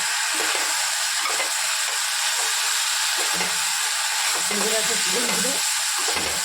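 Chicken pieces for chicken 65 sizzle and fry loudly in hot oil in a pan, a continuous close hiss with occasional stirring scrapes.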